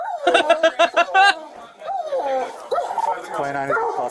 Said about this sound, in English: Hungry whimper, hungry whimper.